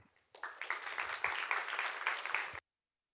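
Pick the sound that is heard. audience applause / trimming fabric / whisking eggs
audience applause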